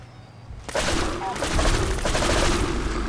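Pistol fire in the Fallout 4 video game: a sudden loud burst of rapid shots breaks in after a quiet moment and keeps rattling on, with no one talking over it.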